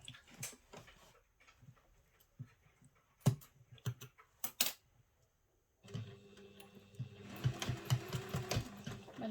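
Sewing a travel satchel: scattered clicks and handling knocks give way to a sewing machine running in a short, busy burst of stitching near the end.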